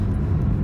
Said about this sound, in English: The car does seem to run and drive just fine